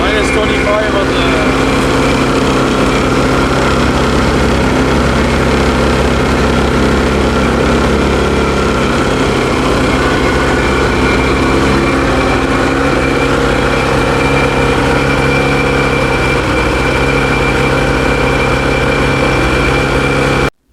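An 850 E-TEC two-stroke snowmobile engine running steadily after a cold start at minus 25, a loud continuous low idle drone with a buzzing tone that holds for about twenty seconds before cutting off abruptly.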